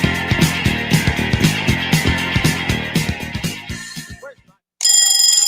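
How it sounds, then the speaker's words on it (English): An alarm clock rings in a loud, steady repeating pattern of quick bell-like pulses that fades out after about four seconds, followed by a short silence and a different tone. "your alarm clock is ringing."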